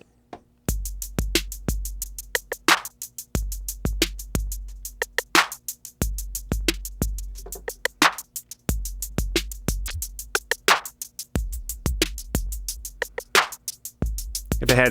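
A drum loop through a Chase Bliss Lost + Found tape effect pedal: steady kick and snare hits with crisp hi-hats in a repeating groove, faint and dry with a slightly smeared tape texture, no voices.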